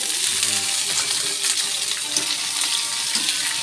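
Vegetables sauté in a hot pan with a loud, steady sizzle and crackle, plus occasional clinks and stirring scrapes, close up.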